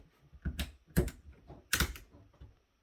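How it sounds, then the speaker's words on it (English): Plastic keys on a Dell D1R74 travel keyboard give several sharp clicks and snaps at close range, irregular and fairly quiet, with brief silence between them and at the end. "Pop one of the keys off."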